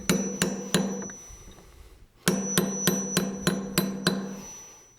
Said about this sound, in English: I've got a little punch and a hammer. And we'll go ahead and peen down that lock nut.